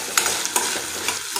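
Onion and bell pepper sauté in a pan with a steady, soft sizzle. Spatula stirs and scrapes make a few light clicks, and no one speaks.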